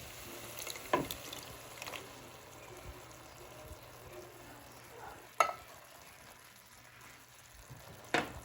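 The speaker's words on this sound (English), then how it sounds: "Mix that all around." Jambalaya with diced tomatoes being stirred in a pot, a soft continuous sizzle with a few sharp scraping clacks of the spoon against the pot, no talking.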